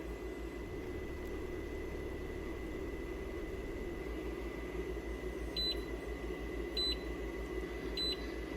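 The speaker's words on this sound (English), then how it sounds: "until it starts constantly beeping at us to remind us. That way you don't forget that the fridge is open" The rear cubby fridge of a Tesla Model Y beeps a door-open reminder in short double chirps, repeating about every second and a half over a low steady hum.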